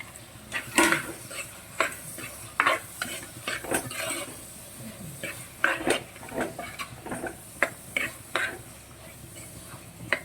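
Drumstick pieces, tomato, green chilli and shallots sautéing in a pan for a dry prawn theeyal, with a stirring spoon scraping and clinking repeatedly over a soft sizzle.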